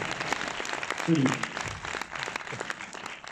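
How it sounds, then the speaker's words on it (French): An audience applauds at a film premiere screening in Orléans. The clapping is steady and dense throughout, and a voice speaks briefly over it. "Super, on peut applaudir."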